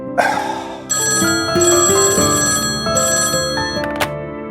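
A telephone rings loudly and steadily in a busy office scene of a Hindi TV drama. The bright, repeating electronic tone has short breaks between bursts and is heard alone, with no talk over it.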